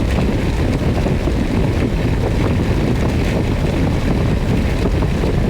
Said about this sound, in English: Really getting a lot of wind now, pushing me around